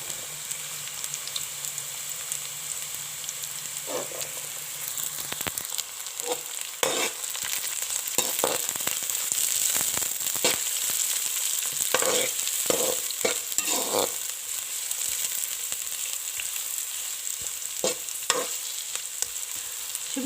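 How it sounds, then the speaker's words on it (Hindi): Capsicum and carrots stir-fried for vegetable fried rice, a bright steady sizzle broken by a series of sharp spatula scrapes and tosses clustered irregularly, close and fairly loud, no talking. "कैरेट्स के बाद अब हम शिमला मिर्च डालेंगे।"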